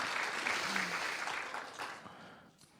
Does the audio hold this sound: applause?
yes